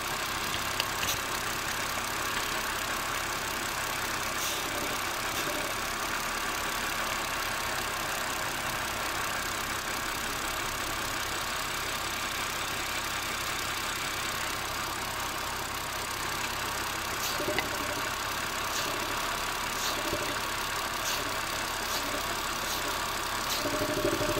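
A car engine idles steadily after a cap replacement, its exhaust steaming, giving a continuous low hum with a faint irregular knock. It runs alone at an even level throughout, with no talking.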